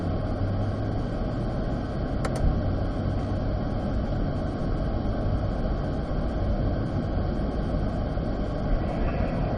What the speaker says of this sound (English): Let's casually get ourselves shifted up to third gear.